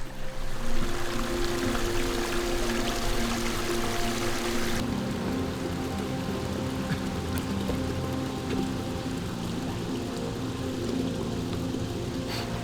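A small woodland waterfall streams steadily, giving a continuous broadband rush of falling and splashing water that stays close and even throughout, with no voices.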